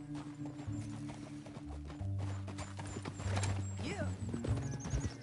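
Horse hooves clip-clop at a gallop in the Red Dead Redemption 2 epilogue as riders chase through a canyon, with a whinny, game music and a brief voice over the steady close hoofbeats.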